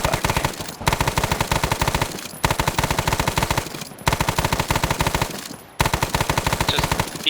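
Machine gun fire in a war video game, sustained rapid automatic bursts repeating several times with brief gaps between, loud and close.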